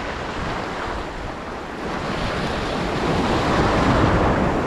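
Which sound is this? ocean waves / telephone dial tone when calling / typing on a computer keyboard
ocean waves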